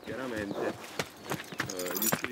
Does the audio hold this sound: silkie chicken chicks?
no